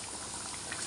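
Karimeen pappas, pearl spot fish in a coconut milk curry, bubbling in a cooking pot with a continuous, close, thick boil and no talk.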